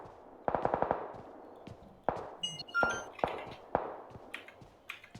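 A fast burst of automatic fire from PUBG Lite rattles out near and loud, followed by scattered single shots, metallic pings and thuds against a quiet background.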